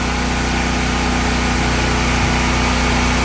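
A Honda portable generator engine runs steadily with no misfire, a close, loud, even drone with a constant low hum and no breaks in the sound.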